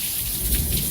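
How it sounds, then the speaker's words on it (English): Heavy rain pours steadily in a lightning-filled thunderstorm, with low rumbling thunder swelling beneath the dense, continuous hiss of the downpour. "lots of heavy rain"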